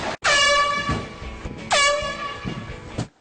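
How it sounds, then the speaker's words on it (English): Two loud, blaring air horn blasts used as a prank, each a harsh sustained honk of about a second with a short gap between, close to the listener and with no talking. "I got mad with the old air horn prank"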